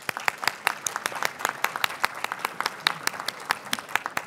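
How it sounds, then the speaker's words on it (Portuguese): An audience at a Brazilian real estate registry officers' conference applauds a panel member as she is introduced, a crisp, sparse clapping of a modest crowd, individual claps distinct and evenly paced. "um por um está recebendo uma salva de palmas"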